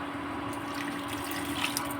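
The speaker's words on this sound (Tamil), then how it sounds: "இப்போ தண்ணி ஊற்றிக்கலாங்க." Water pours steadily into a pot of mango curry on the stove, a continuous soft splashing hiss with no talking.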